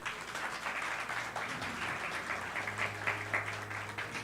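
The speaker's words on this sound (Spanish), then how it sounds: "Un aplauso para ella." A church audience applauds, a steady moderate patter of clapping that carries through the whole moment over a low sustained hum.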